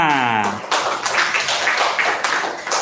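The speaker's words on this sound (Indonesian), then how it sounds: "tepuk tangan untuk kita semua" Sixth-grade Islamic religious education class clapping hands together after a lesson on zakat, a short burst of scattered claps following a brief sound at the start, close and fairly loud.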